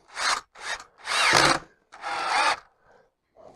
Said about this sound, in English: Put the screwdriver bit into the drill.